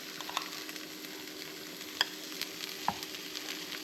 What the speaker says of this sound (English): we'll start adding our bacon and tomato mixture into the Dash Minis